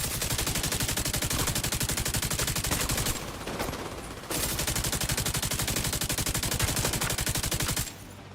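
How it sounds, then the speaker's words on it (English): Rapid sustained automatic gunfire from a video game, loud and continuous, with a short lull in the middle before the shooting resumes and then cuts off near the end. "If you're gonna walk up to me like that, I might as well shoot you."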